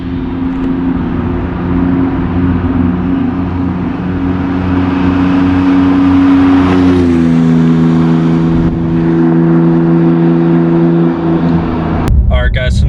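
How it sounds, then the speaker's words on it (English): A 2018 Porsche GT2 RS drones along with a steady low engine hum that climbs in pitch as it accelerates, heard from inside the car, with a brief burst of wind or handling noise at the end. "now I'm actually driving this GT2 RS"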